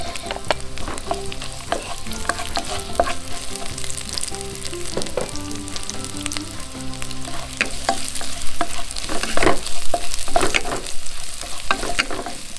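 Garlic and onion sautéing in a pan for a pork, kadyos and jackfruit stew, a steady loud sizzle with frequent stirring clatters and utensil scrapes throughout, no voices.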